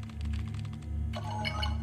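Rapid clicks of typing on a computer keyboard, a close, quick run of keystrokes over a steady low electronic hum, with a denser burst near the end and no talk.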